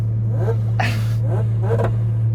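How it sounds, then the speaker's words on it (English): A supercharged Kawasaki H2R motorcycle revs at a drag race with a noisy exhaust, and its supercharger induction sucks air audibly. Low engine hum runs throughout, while several rasping, breathy bursts rise and fall in quick succession, loud and close. "what I really heard was the induction sound from that supercharger"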